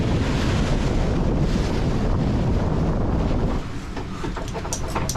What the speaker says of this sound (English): Waves and winds are picking up, slamming over Tessie.